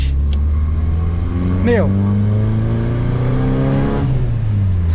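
A 1990 Volkswagen Gol GTS drives along a street, its engine droning steadily and then revving up in a rising sweep before settling back, with someone talking throughout.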